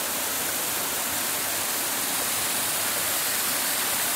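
The Antonico waterfall in the Ibitiranga area of Brazil roars in a steady, dense rush of falling water, loud and unbroken throughout.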